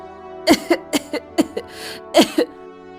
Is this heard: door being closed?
no